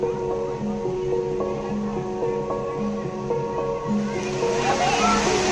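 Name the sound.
waterfall at Rock Garden, Chandigarh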